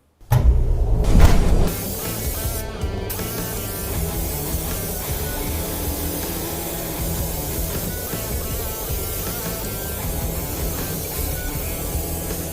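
In a body shop, a spray gun painting a car gives a steady, continuous airy hiss after a louder, rumbling burst at the start, filling the room at an even level for the rest of the stretch.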